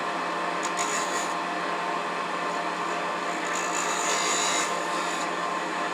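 A wooden ring on a lathe being rounded over with a cutting tool gives a steady, loud, close scraping hiss that runs unbroken for several seconds.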